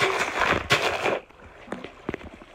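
A loud Minecraft-style TNT explosion in a video game booms and rumbles for about a second, then fades into a few quiet crackles and clicks.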